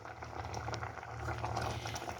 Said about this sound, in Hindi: अब इसे हम मीडियम फ्लेम पे इतना पकाएंगे गाजर और जो चावल है बहुत ही अच्छी तरह गल जाएं।